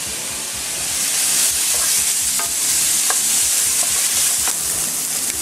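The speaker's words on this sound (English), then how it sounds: "Add sesame oil, all vegetables in. Cook them over high heat." Vegetables stir-fry in sesame oil over high heat, a loud, steady sizzle with scraping stirs and occasional sharp clicks of a utensil against the pan, continuous and close.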